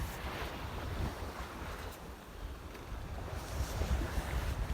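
A sailboat making about 7.5 knots across the North Atlantic toward the Azores, with a constant rush of wind, water and waves washing past and heavy buffeting in the microphone.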